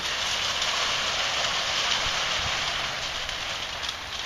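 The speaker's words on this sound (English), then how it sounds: "You can hear rain falling off the tree onto the roof." Steady rain drips from a tree onto a roof, a continuous wash of soft taps with a few louder drops, no voices.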